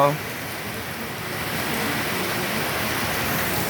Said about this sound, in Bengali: প্রচণ্ড তাপের মধ্যে স্বস্তির আবহাওয়া বৃষ্টি